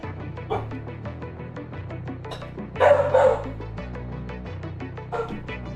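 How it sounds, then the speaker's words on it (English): A small dog yaps in a quick burst of sharp, loud barks, close by, cutting through constant background music and game sounds from a Satisfactory session. "How can such a small dog be so loud?"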